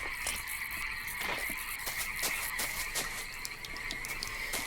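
A chorus of frogs croaks steadily outdoors, dense and continuous with repeated rhythmic pulses, fairly close and without any voices.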